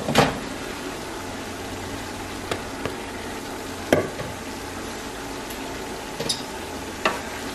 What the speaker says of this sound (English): now the bacon was cooking for a little bit, and now it's time to add the meat